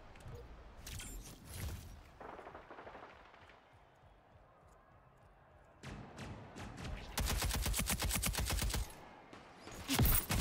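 Rapid automatic gunfire bursts in the sci-fi shooter Splitgate 2, with scattered shots early on and then dense, loud sustained volleys toward the end, while a player talks faintly underneath.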